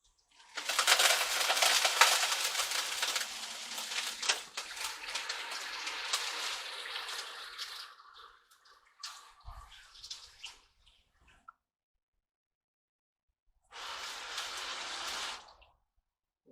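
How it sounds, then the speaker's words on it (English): A garden hose on a shower setting sprays water over a sluice box on a DIY recirculating gold high banker, a hissing spray lasting several seconds, fading into intermittent splashes, then a short second burst. "So I'm going to take the hose and wash this"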